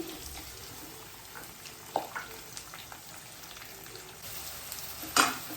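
Onions and curry leaves fry in a pan for prawns pepper fry, producing a soft, continuous sizzle with occasional light scrapes and one sharper clink near the end.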